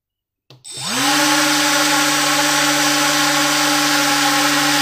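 A brushless motor driven by an ESC and servo tester spins up abruptly and settles into a steady, loud, close-up electric whine with a constant tone and no speech.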